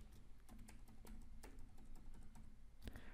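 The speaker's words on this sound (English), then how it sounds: "I'm going to type out a password here." Fingers type a password on a computer keyboard, a close series of quick, irregular key taps with brief pauses between bursts, steady at a moderate level with no talking.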